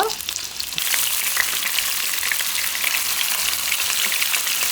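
Dried pollock fries in cooking oil in a pan until golden, giving a loud, dense, steady crackling sizzle close by with no talking.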